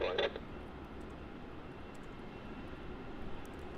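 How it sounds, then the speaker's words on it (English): Jetstar Airbus A321 taking off from Melbourne Airport, a steady distant engine roar building on the runway, moderately faint, with a brief burst of radio chatter at the start. "I'm cleared for immediate takeoff, Jetstar 735."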